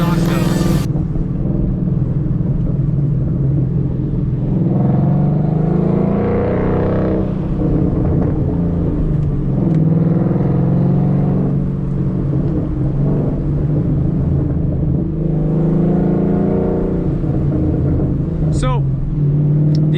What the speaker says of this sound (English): let's see if I can hear any difference in the exhaust though.